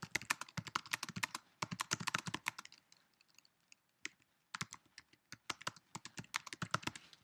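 Fingers tap away at a computer keyboard in quick bursts of close, crisp keystrokes, with a short pause in the middle before the rapid clicking resumes. No voices accompany it.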